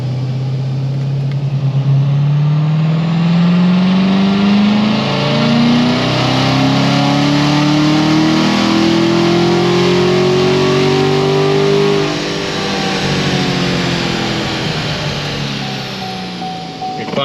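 A Corvette C7 Z06 road-race car with a tuned exhaust revs up in one long sweep, a loud droning engine note climbing steadily in pitch before easing back, with a rough rumble underneath.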